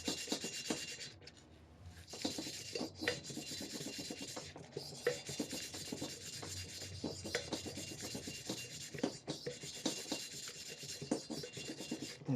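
A Neway valve seat cutter works a valve seat in the cylinder head of a 2008 Acura MDX, giving a continuous close rasping and scraping with rhythmic strokes and no talk over it.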